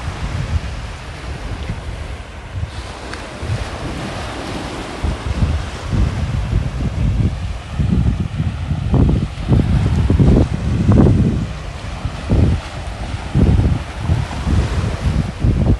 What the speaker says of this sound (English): We gotta walk on the beach, so hopefully the sounds are good and we don't get too much wind interruption.